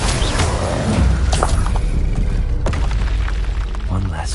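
Fire spells, Confringo and Incendio, burst in the Wizard Simulation video game, with dense, loud booming blasts that rumble continuously and a voice calling out over them.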